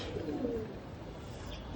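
A nose-pulling type pigeon coos in a faint, low, brief burst close by, over a quiet background.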